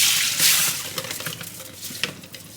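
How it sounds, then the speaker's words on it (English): Rinse water draining out of washed rice through a handheld drainer, a steady close splashing trickle with irregular drips and gurgles, for Senegalese thieboudienne (riz gras au poisson). "Then you want to take a drainer like this and drain the water out."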